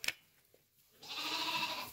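A newborn lamb about a day old gives a single harsh bleat at a farm tagging and docking session. A faint click comes first, and the bleat lasts about a second, moderately close.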